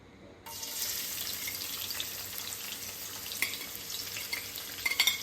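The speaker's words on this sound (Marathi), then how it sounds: "हा जो कांदा आपण चिरून घेतलाय ना तो आपल्याला छान असा फ्राय करून घ्यायचा आहे" Chopped onion frying in a few spoons of oil for a pomfret masala in coconut milk, a sizzle that starts abruptly and carries on evenly, with a few light clinks near the end.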